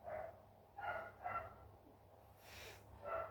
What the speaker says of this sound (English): That is my next door's neighbour's dog barking, the dachshund.